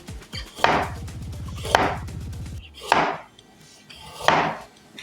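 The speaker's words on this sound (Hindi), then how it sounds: "अब गाजर को भी पतला पतला स्लाइस में काट लेंगे।" A carrot being cut into thin slices on a board, four sharp knife chops spaced about a second apart, close and loud, with brief rattling scrapes between strokes.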